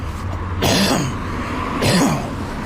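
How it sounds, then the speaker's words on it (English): Two loud, harsh coughs or throat-clearing bursts from a person with a chronic cough, close to the microphone, spaced about a second apart. "It's the cough that never quits."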